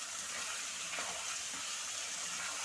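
Egg and potato curry sizzling and frying in a pan while being stirred, a steady close hiss with soft scraping movements throughout and no talking.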